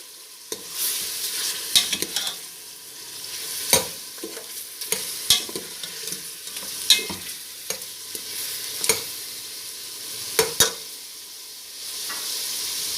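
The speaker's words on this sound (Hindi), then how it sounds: "अब हमने हमारे पास ये लहसुन का पेस्ट है, 2 टीस्पून भर के हमने ये इसके अंदर शामिल कर लेना है और फिर थोड़ा सा हमने इसको भून लेना है।" Garlic paste sautéing with mutton in a pan for nihari, with steady stirring scrapes and clacks over a soft background sizzle, repeated every second or so and heard up close with no talk.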